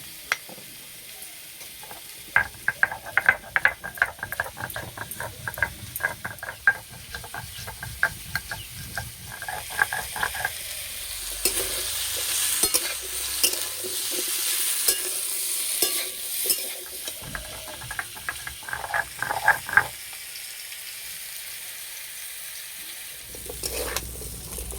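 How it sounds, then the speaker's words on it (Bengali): Vegetables for a pumpkin curry fry over low heat in a pan, giving a continuous soft sizzle with frequent rapid scraping and clattering from stirring throughout. "হালকা আঁচে সবজিগুলো ভালো করে ভেজে নেব।"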